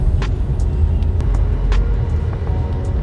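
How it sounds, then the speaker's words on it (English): Peugeot 3008 driving through town, a low steady engine and road rumble with a few faint clicks and knocks from the cabin. "So now let's see how this car feels to drive in town."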